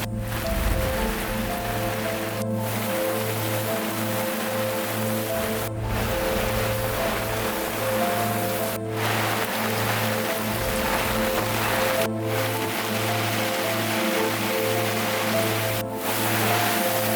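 Heavy rain pours steadily over a moored sailboat, a dense continuous hiss with a low droning hum underneath and a few brief breaks, loud and close with no talking.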